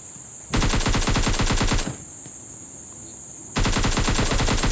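Automatic gunfire in the mobile shooter PUBG Lite, with two loud sustained bursts of rapid shots separated by a quieter stretch of game ambience.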